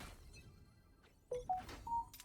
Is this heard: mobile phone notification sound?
yes